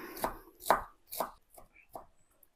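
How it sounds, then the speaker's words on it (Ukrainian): A knife chops fresh dill and parsley on a board in five quick, close cuts that fade as the rhythm slows. "У мене тут кріп і петрушка, наші українські кріп з петрушечкою. Смакота. Так, дрібнемо."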